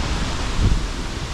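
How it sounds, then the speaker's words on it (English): Strong wind blowing outdoors, a steady broadband rush buffeting the microphone, with a brief low gust swelling near the middle. "The wind, it fucking blows so hard at out here."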